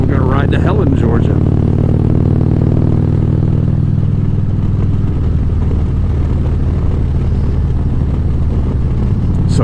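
A motorcycle cruises down the road with a loud, steady engine drone and heavy wind rush close to the rider, under someone talking.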